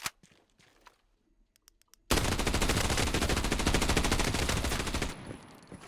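Automatic weapon firing in the shooter Arena Breakout Infinite, a sudden dense rapid-fire burst of close, loud shots sustained for about three seconds after a quiet lead-in, then tapering off.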